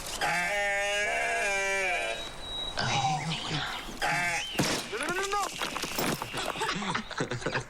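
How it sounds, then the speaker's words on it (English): A baby goat bleats loudly in a wavering, drawn-out cry lasting about two seconds, heard in an AT&T HTC One X phone commercial. Several people talk over and after it. "Whoa, check it out. Hey, baby goat."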